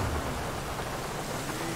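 Heavy rain drums loud and dense in GTA V, heard from inside a car with the window lowered, a steady broadband wash with a low rumble at the start and no talk.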